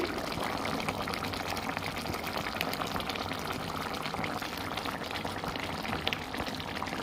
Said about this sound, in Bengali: মাছটা দিয়ে একটু ভালো করে ফুটিয়ে নেব